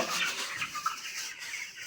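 Many chickens cluck and chatter faintly in a busy, continuous murmur, a crowded flock inside a poultry shed, with no talking.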